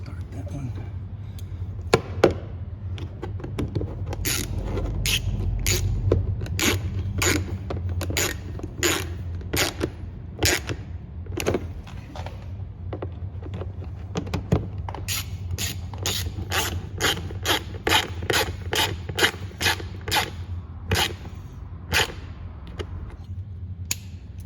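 Screws threaded into the rear door panel of a 2011-2015 Ford Explorer, giving a long run of sharp, rapid clicks and creaks, steady and close, in irregular bursts over a low hum.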